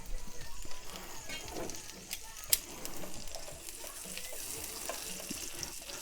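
Water running from a kitchen sink tap while washing up during steak-night cooking, a faint steady splash and trickle with light clinks and a sharp knock partway through.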